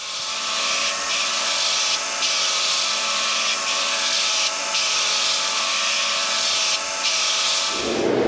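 A surface grinding attachment with a magnetic chuck on a 2x72 belt grinder grinds steel for a Damascus katana, a loud, steady abrasive hiss with faint periodic pulses as the table slides back and forth, then winding down at the end.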